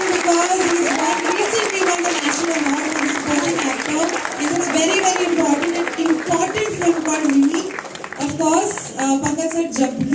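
Crowd applause at the Fukrey 3 trailer launch event, a steady wash of clapping through the whole stretch with a voice talking loudly over it.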